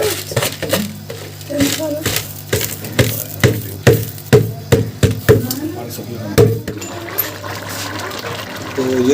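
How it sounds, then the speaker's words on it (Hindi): Rice is tipped into a pot of boiling water for chicken vegetable white pulao, giving a series of splashing, pattering pours and bubbling up close, with someone talking over it. "अब मैं डालूंगा चावल।"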